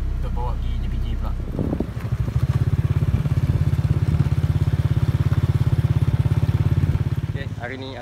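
A motorcycle engine idles nearby with a steady, rapid putter after a brief clatter and rev, the throbbing continuing then fading slightly toward the end.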